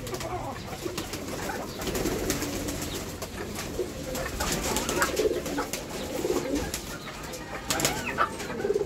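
Pigeons cooing on a rooftop farm while sitting on their eggs, soft repeated coos near the microphone over a steady background with occasional wing flutters.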